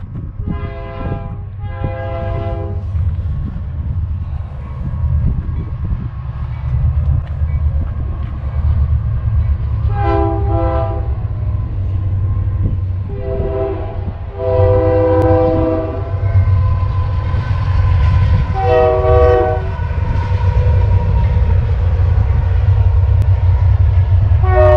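Train passing close by near stage station ruins on Indian reservation land, its horn sounding in several long and short blasts over a loud, continuous rumble of railcars rolling past.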